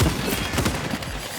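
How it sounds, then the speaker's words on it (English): Sticky firecracker grenades in Second Extinction popping off in a fast, crackling chain of small blasts, loud and close, lasting just over a second. "sticky firecrackers"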